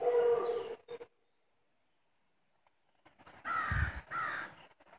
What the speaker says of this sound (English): See the crows?